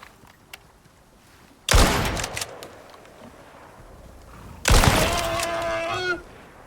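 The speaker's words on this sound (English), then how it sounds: "I'm just shooting them because I can." Two loud, sharp bursts of weapon fire in the survival game Icarus, each followed by about a second of ringing decay, separated by a short quiet stretch with no talking.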